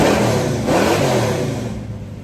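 The 440 V8 of a 1970 Dodge Challenger revs up close and loud, a deep rising roar that holds and then eases off slightly, with no voices over it.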